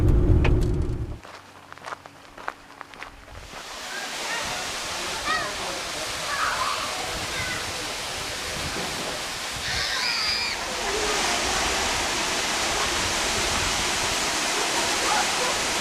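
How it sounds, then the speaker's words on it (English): Broad steady rush of a small waterfall at Jump Creek Recreation Site in Idaho, swelling in as the recorder approaches, with a few footsteps and brief sounds early and talk in the background. "Well, that was an awesome little waterfall."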